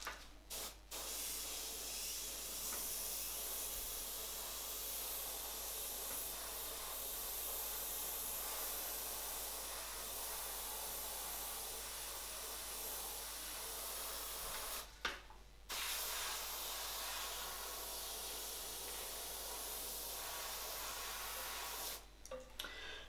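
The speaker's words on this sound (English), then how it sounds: "now I can start to spray a white layer" A steady, hissing spray of white paint from a spray gun onto a Klein guitar body runs almost continuously, with two brief pauses where the trigger is released.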